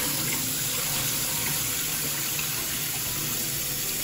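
Dal lentils being rinsed under a running kitchen tap for a Guyanese beef curry, a steady, close rush of water filling and splashing in a pot or sink with no talking.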